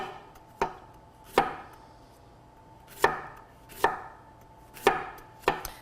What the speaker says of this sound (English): we're just going to do some nice thin slices of our fennel